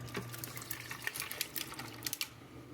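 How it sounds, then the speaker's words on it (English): Brewed coffee splashes and trickles steadily into a blender nearby, a soft pouring sound with small clinks over a low background hum. "Take your 8 ounces of brewed coffee, pour it right into your blender."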